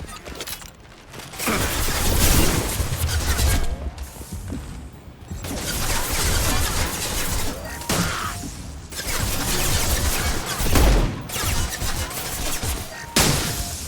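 Dense, chaotic combat from the Mass Effect 2 Legendary Edition video game, with bursts of rapid gunfire, heavy impacts and crashes packed together for long stretches, broken by brief lulls, loud and close throughout.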